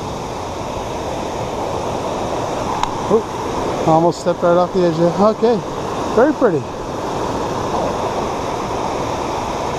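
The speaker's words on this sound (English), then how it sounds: "the water is flowing very nicely" A rain-swollen mountain stream rushes in a constant broadband wash heard up close on a hiking trail, while a person speaks briefly over the steady flow.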